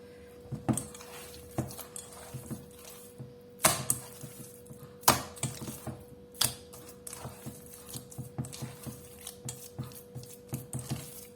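Minced meat with a little water being beaten by hand in a bowl for cutlets, giving soft, close slaps in an irregular rhythm with louder smacks now and then, quiet and without talk.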